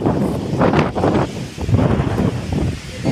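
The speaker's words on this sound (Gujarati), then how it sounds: "પવનની ગતિ વધતી જાય છે" Powerful wind rushing and surging in heavy gusts ahead of a rainstorm with lightning, pounding the microphone, with a continuous roar between the bursts.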